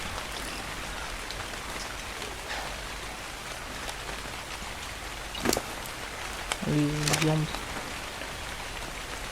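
Steady rain in the video game Ark: Survival Evolved patters throughout with brief louder taps and a short chirpy electronic tone; a voice speaks briefly over it.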